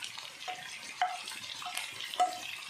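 Small square pieces of boneless chicken frying in a hot pan with garlic and ginger for chowmein, a steady soft sizzle with a few light clinks and stirring scrapes, no talking.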